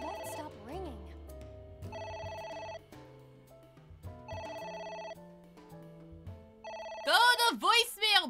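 A telephone bell ringing in a video game, repeating in regular electronic rings with pauses between bursts, followed by a sharp rising and falling electronic chirp at the end; no one talks over it.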